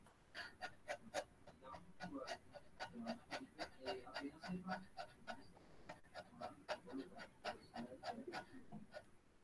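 Several people in a vocal ensemble class imitate a puppy's panting, a long run of quick, rhythmic breathy huffs and gasps that sound close and fairly soft, with no words spoken.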